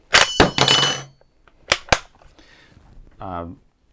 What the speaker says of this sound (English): as I push it in, you'll see the clip fall out